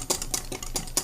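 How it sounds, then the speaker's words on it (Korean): Spoon stirring glutinous rice flour into shrimp brine and water in a pot, a few quick soft scraping strokes in a steady rhythm, close and quiet, with no talking. "찹쌀가루 1큰술 멍울이 없이 풀어주세요."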